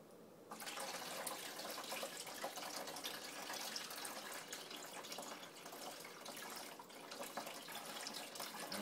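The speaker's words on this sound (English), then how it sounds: "now we're going to add this beer mixture to our primary fermenter. And you're going to want to pour it in here nice and slow." Homebrew beer mixture is poured slowly into a fermenter bucket of water, making a continuous loud splashing, gushing stream that starts abruptly and runs without pause to the end.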